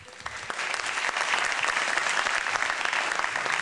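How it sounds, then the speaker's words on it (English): Audience applause in a studio show, a dense sustained clapping from a crowd that starts up and holds steady and loud throughout, with no talking over it. "ladies and gentlemen, a round of applause"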